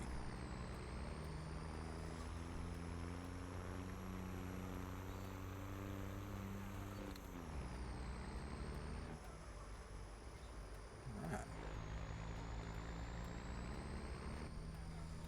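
Truck driving in a farming video game, a loud steady engine drone with shifting pitch, a brief air-brake hiss and rising revs, no voices.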